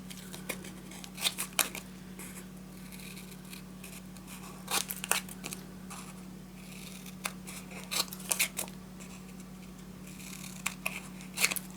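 Scissors snip at the corners of a large paper or card piece during scrapbook album construction, giving sharp isolated clicks spaced a few seconds apart over a steady low electrical hum.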